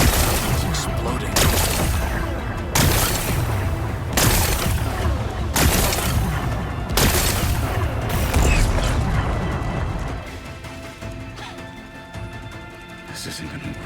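Rock-blasting explosions in Horizon Forbidden West go off while exposing a power cell, a run of five loud broadband bursts about every one and a half seconds, followed by quieter rumbling debris and ambience.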